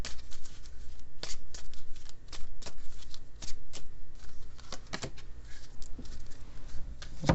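A deck of manifestation cards is shuffled by hand for a tarot reading, giving rapid papery riffles and soft flicks in quick, uneven bursts, close and fairly quiet, with no voice.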